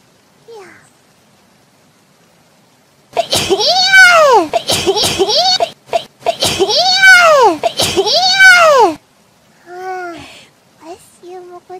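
Mococo sneezing, a run of sharp, high-pitched, squeaky bursts in close quick succession, loud and near, with a short spoken word and a few softer vocal sounds near the end.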